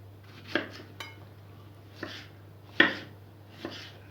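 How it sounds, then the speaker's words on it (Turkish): A knife chopping tomatoes and peppers on a board, four or five separate crisp cuts with knocks and a faint metallic clink, spaced about a second apart over a low steady hum. "Domatesimi biberimi şöyle yarım ay şeklinde doğruyorum."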